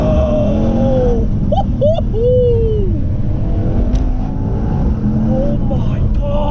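A Mercedes-AMG E63 S, tuned to around 600 bhp, launches hard with a loud, sustained engine roar that climbs through the gears, while people in the car shout and exclaim over it.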